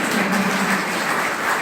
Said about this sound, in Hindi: तो आप सभी ताली बजाएं इसके लिए।